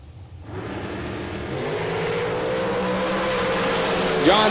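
A dragster launches at a bracket drag race, its engine roaring up from near silence into a loud, sustained rising drone that holds steady at full power, with a high whine appearing near the end.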